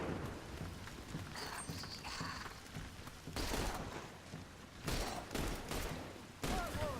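Gunfire in the video game The Bureau: XCOM Declassified, bursts of rapid shots and heavy blasts over a rumbling battle backdrop, several loud volleys spaced across the stretch.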